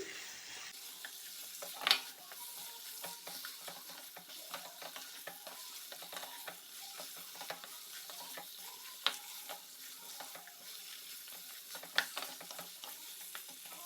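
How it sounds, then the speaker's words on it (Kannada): Chicken pieces fry in a pan for a chicken stew, giving a steady soft sizzle with frequent stirring scrapes and a few sharper clicks of the utensil, close by and without talk. "ಹೀಗೆ ಚಿಕನ್ ಎಲ್ಲ ವೈಟ್ ಆಗಿ ಬರಬೇಕು, ಅಷ್ಟರವರೆಗೆ ನಾವು ಫ್ರೈ ಮಾಡ್ಕೊಳ್ಬೇಕು"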